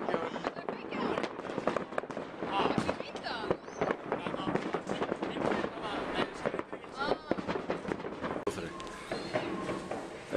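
Fireworks go off on New Year's Eve, dense overlapping bangs and crackles in an irregular rapid barrage, some near and loud, with people talking and calling out throughout.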